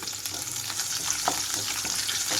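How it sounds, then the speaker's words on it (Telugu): Garlic, ginger and chopped green chillies fry in a pan for mushroom fried rice, giving a steady, moderately quiet sizzle with light stirring scrapes and no talking. "వెల్లుల్లి అల్లం కొంచెం వేగాలి ఇక్కడ ఇవి వేగేటప్పుడే ఇందులోనే కట్ చేసి పెట్టుకున్న పచ్చిమిరపకాయలు వేస్తున్నాను"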